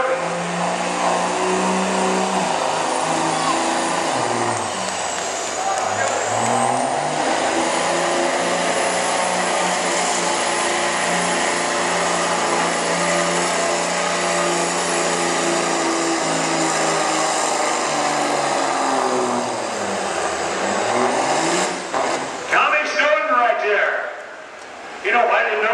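A Dodge diesel 4x4 pulling truck in the 8,500 lb class roars down the track at a truck pull, its engine loud, sustained and rising, with faint voices beneath and the roar easing near the end.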